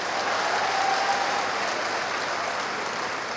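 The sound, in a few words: audience clapping in agreement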